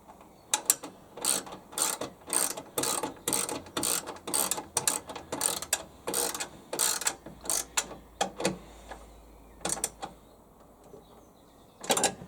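Socket ratchet tightening a bolt on a lawn mower gearbox, close sharp clicking in quick bursts of strokes with brief pauses between, trailing off to a few last clicks, with no talk.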